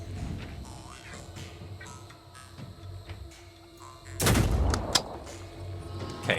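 Gunfire from the video game Phoenix Point bursts out loud in a short heavy volley of shots over a low droning game background, with a voice speaking in the background.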